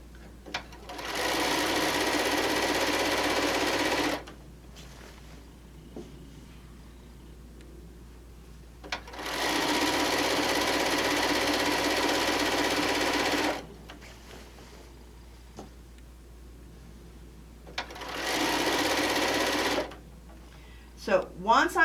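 A sewing machine stitches a quarter-inch quilt seam on a panel quilt in three long, steady runs of several seconds each, loud and close, separated by quiet pauses.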